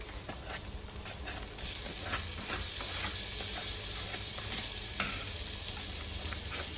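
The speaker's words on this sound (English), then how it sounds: "We'll start by putting our butter in." Butter sizzles in a hot pan while a chicken and chickpea salad is being cooked, a steady close hiss with a few faint pops, growing slightly louder after the first couple of seconds and heard alone.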